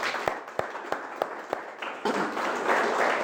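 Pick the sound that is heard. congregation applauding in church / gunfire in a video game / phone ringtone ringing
congregation applauding in church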